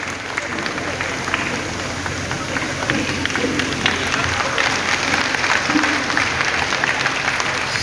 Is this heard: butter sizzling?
no